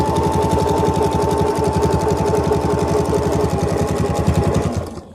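A sewing machine runs steadily, stitching machine binding on a quilt, its rapid, even needle rhythm filling nearly five seconds before stopping abruptly near the end, close and loud with no voices.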